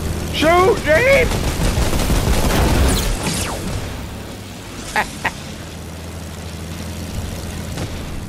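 In Fortnite, rapid bursts of gunfire from planes rattle loudly over a droning aircraft engine, with excited shouted voices and quacking yelps in the first seconds before the firing thins out.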